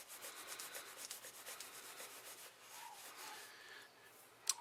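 Cloth wiping excess wax off oxidized Wedgwood jasper dip ware, a steady close rubbing swish with faint squeaky strokes, ending in a brief sharp click.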